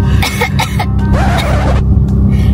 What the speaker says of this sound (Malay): Ni batuk betul-betul.